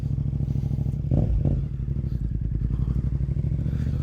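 A Yamaha XSR700 motorcycle's CP2 two-cylinder engine idles with a steady, throbbing rumble, briefly revved once with a couple of quick blips before settling back.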